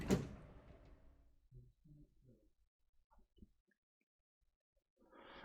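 A door opens in a quiet interior with one sharp onset, followed by faint soft knocks and shuffles, then a low rustle near the end.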